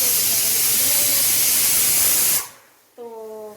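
Vegetables sizzling in a pan after being tempered in hot oil for a Gujarati shaak, a loud, steady close hiss that cuts off abruptly after about two seconds, followed by a short pause and then a brief tonal sound.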